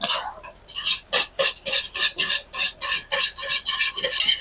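Dandelion lemon balm jelly at a rolling boil in a pot, a close, steady run of bubbling and stirring scrapes that comes in quick rhythmic bursts, with no voices.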